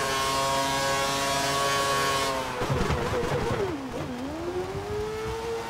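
Formula 1 race car engine in F1 2013 during qualifying at Kuala Lumpur, a steady high whine that drops off, then sputters and rumbles at low revs before climbing again in a rising, revving tone.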